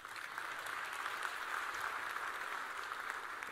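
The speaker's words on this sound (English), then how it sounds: "give yourselves a big applause" Steady audience applause from a crowd at a mental health talk, a dense even clapping that holds for several seconds at moderate, somewhat distant loudness.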